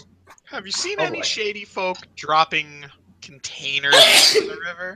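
A sharp, loud sneeze bursts out near the end of a run of animated conversation between several people seated around a tabletop roleplaying game, the blast of breath cutting briefly over the chatter.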